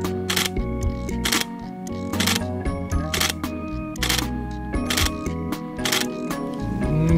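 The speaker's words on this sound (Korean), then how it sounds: "다음은 라이브 뷰 촬영 시의 셔터 소리입니다." A Nikon D780 DSLR fires its shutter in live view shooting, a series of crisp, fairly quiet mechanical clicks repeating in a loose rhythm close to the microphone, with no talking.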